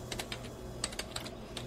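Rapid, light clicking of keys being typed on a computer keyboard, close up, in a short steady burst, as spoken words are transcribed by lip-reading.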